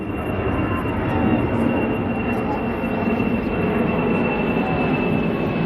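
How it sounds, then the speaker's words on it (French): An airplane passes overhead at an outdoor gathering, a broad steady roar that fills the whole stretch with a thin constant high tone, while people murmur and chatter in the background. "Vous pouvez entendre un superbe avion passer au-dessus de nos têtes."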